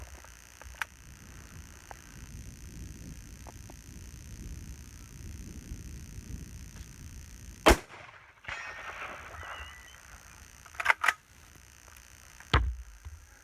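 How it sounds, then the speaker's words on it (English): A single sharp rifle report from an Oceania Precision SP-25 fired standing at a 200-metre target outdoors, loud against quiet ambient background, followed by a few fainter clunks and handling knocks. "I'll take a shot from the just standing support position here"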